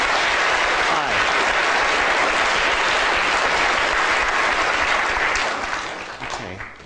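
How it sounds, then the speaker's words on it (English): A lecture audience gives its two volunteers a round of applause, thick sustained clapping that carries on loudly for several seconds before thinning out and fading toward the end. "Round of applause for both of our volunteers."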